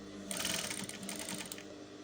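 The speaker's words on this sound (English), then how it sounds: "just going to join this all through. I'm just top stitching" A sewing machine runs top stitching along a dress seam in a short continuous burst, a rapid, even mechanical whir with fine ticking, close and alone.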